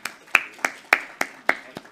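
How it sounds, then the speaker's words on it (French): A few people at a medical conference in Marseille clap sparsely, eight or so distinct, well-spaced hand claps ringing out close and clear in a slow, uneven rhythm with no voices. "j'aimerais qu'on les applaudisse, parce qu'ils font ça pour vous"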